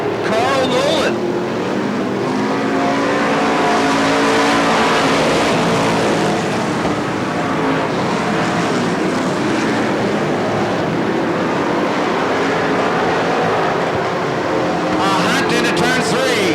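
Stock race cars at Bakersfield speedway roar past in a loud, continuous engine blare that swells and sustains throughout, with a commentator talking over it.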